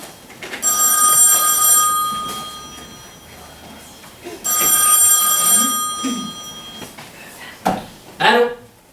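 Telephone ringing for an incoming call, two long bright electronic bursts of ringing close by, followed by a short clatter and a voice.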